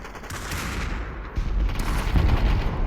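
Bursts of gunfire come from a match of the VR shooter Population: One. Rapid shots crackle continuously, growing louder and heavier about halfway through with deeper booming impacts.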